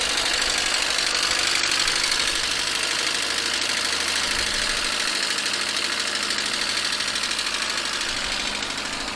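A SEAT Ibiza MK1 with a System Porsche engine idles steadily with an even, rumbling hum and a faint knocking texture, close by and unbroken throughout.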